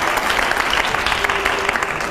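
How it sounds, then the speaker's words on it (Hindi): A studio audience at a rapid-fire television interview breaks into loud, dense applause, a steady wash of clapping hands lasting about two seconds with a faint whistle-like tone running through it. "तालियां जोरदार।"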